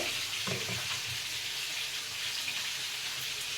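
Fish pieces frying in a pan, a continuous close hiss and sizzle of hot oil, steady throughout with small bubbling pops.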